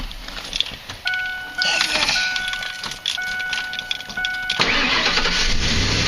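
A Ford F-150 pickup is started with the key: a repeating chime beeps while the starter engages, and the engine catches and settles into a running rumble, with faint voices in the background.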